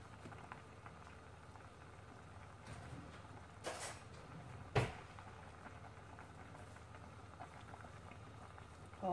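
Thai sour fish soup with fresh mackerel and moringa tips simmering in a pot, a faint continuous bubbling with a couple of brief knocks.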